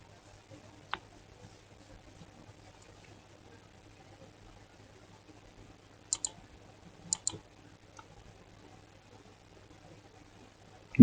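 A few sharp computer mouse clicks, spaced out and fairly close, over a quiet room hum with a low steady drone.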